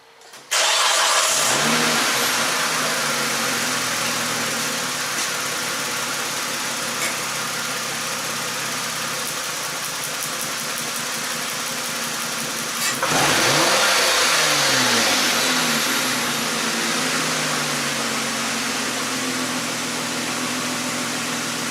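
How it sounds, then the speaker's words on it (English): Car engine cranking and catching, then running loud and steady for several seconds before a second surge where the revs rise and fall, heard close with no talk. "let's start it up and rev it up"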